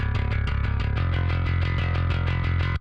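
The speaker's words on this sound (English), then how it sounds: "this is the parallax from Neural DSP, but this is just like a gritty, distorted bass sound" Gritty, distorted bass guitar through a Neural DSP Parallax plugin, pop-punk style, playing a steady run of palm-muted eighth notes with a dense, saturated low end, loud and alone, cutting off abruptly at the end.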